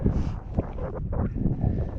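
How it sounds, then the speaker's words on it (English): Gusty wind buffets the microphone in heavy, rumbling bursts in a Scottish glen near Loch Chiarain, a loud low roar that rises and falls unevenly. "Still a wee bit windy, so I'm shouting."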